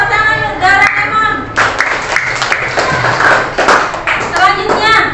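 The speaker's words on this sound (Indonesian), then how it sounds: "Tepuk tangan untuk Doraemon." Schoolchildren applaud a group of classmates in a classroom, bursts of fairly close clapping alongside children's voices and a teacher speaking.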